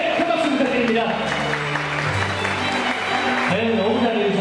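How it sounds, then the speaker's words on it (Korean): Wedding guests clap together at a Korean wedding ceremony, steady dense applause with music playing underneath and a voice briefly audible. "큰 박수 부탁드립니다"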